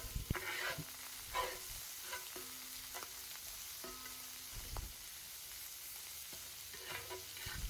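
Onions cooking in a pan that was just deglazed, sizzling steadily while a utensil stirs and scrapes them in repeated strokes, close by with no voices.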